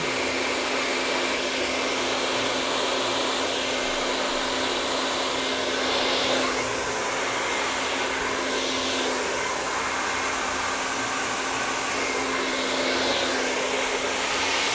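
A hair dryer blows continuously and loudly on curly hair, a steady airy roar with a faint tonal whine and slight shifts as it moves through sections.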